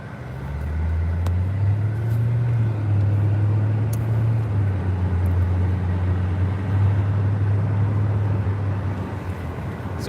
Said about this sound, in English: So we're driving to a different city.